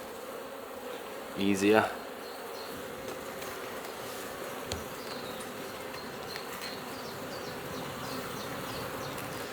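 Honeybees buzz in a steady, droning hum at an open spring hive being worked, close and continuous, with a brief louder burst near the start and a short spoken word.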